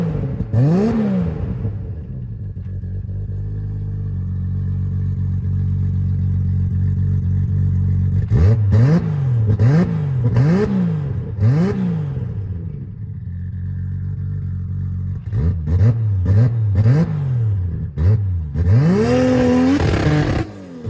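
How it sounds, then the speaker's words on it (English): Toyota Supra with its 2JZ six-cylinder engine revving close by, a steady idle broken by repeated sharp blips of rising and falling pitch, strong clusters of revs, loud and alone without talk. "the first thing that I absolutely love about this car is the sound that the 2J makes."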